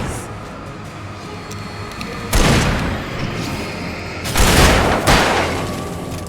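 Gunfire in Alan Wake Remastered, Episode 5 Light of Bright Falls: a few heavy broadband shot bursts over a steady low game ambience, one loud blast then a pair of close repeated shots.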